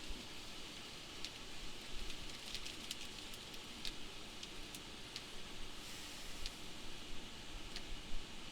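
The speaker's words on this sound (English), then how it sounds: "Rain's lightened up a bit." Rain falling during a tornado-warning storm, a faint steady patter and hiss with scattered sharp drop ticks, quiet and even throughout.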